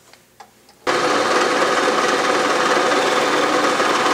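Bridgeport milling machine taking a full-depth single pass while cutting a T-nut, starting abruptly after a few light taps and holding a loud, steady grinding roar.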